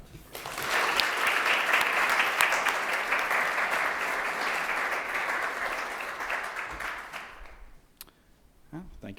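An audience at a talk applauds steadily to welcome a speaker: dense, even clapping that holds strong for about seven seconds, then fades out, followed by a voice beginning to speak.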